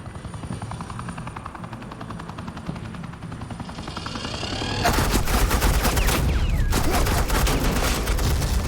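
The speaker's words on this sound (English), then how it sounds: "suppressing fire" Sustained automatic gunfire from Batman The Enemy Within, a helicopter drone under a steady rattle that bursts into loud, dense fusillade fire halfway through and keeps hammering.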